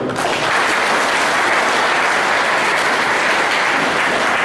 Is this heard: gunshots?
no